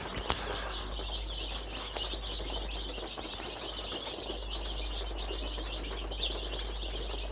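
Purebred Black Australorp chicks peep in a steady, dense chorus of high, thin chirps. Faint wing flutters and a few brief taps come through across the whole stretch.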